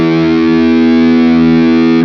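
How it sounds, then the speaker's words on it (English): Electric guitar in drop D through a Peavey 6505 module with gain at maximum rings out a single sustained, heavily distorted chord, loud and thick, cut off abruptly after two seconds. "we'll just crank the gain up and hear what that sounds like"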